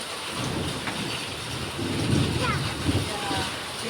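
A thunderstorm with steady heavy rain and hail hammering down, dense and continuous, with a low rumble of thunder swelling midway and voices talking under the downpour.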